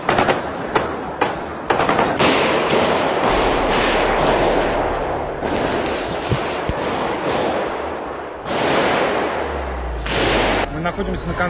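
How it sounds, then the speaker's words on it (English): Rapid gunfire bursts ring out inside Crocus City Hall during a concert attack, mixed with a dense roar of screaming crowd noise and running people; loud, close, chaotic and continuous. "Здесь происходит какая-то стрельба, куча народу бежит, все орут, кто-то стреляет здесь."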